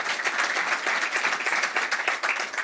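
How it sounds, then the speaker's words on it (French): Audience applauding a guest at a sailing show, steady dense clapping with a rapid crackling texture, moderately loud and uninterrupted across the short span. "que vous pouvez applaudir."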